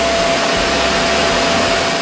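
A Gorenje VCK 1601 vacuum cleaner runs at full power with a steady, loud, unbroken whooshing roar and a thin constant whine, with no voices over it.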